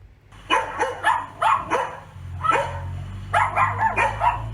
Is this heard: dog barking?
yes